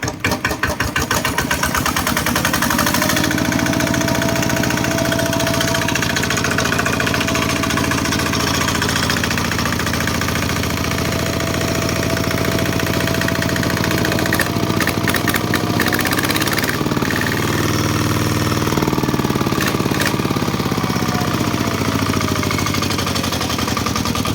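A used 8-horsepower Kubota ET80 small diesel engine chugs loudly and continuously nearby, its rhythmic clatter holding steady with occasional changes in pitch as it runs.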